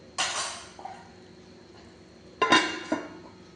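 A lid goes onto a cooking pot of spicy sardine curry, sending out two sharp metallic clanks with a lighter tap after each, close and alone.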